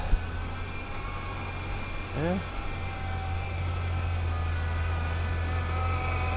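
A 1996 Ford Ranger engine idles steadily after sitting over a year, a constant low hum with a faint whine, joined briefly by a short rising squeal from the power steering near the middle.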